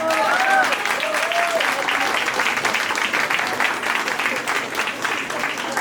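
Audience applause at a student talent show, a steady wash of clapping that carries on throughout, with a voice speaking over it at the start.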